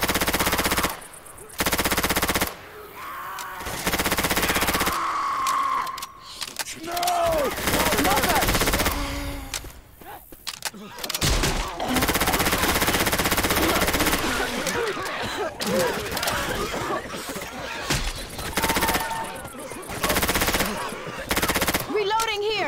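Automatic gunfire from Left 4 Dead 2 in bursts, sustained loud rattling shots with brief pauses, alongside game effects and occasional speech.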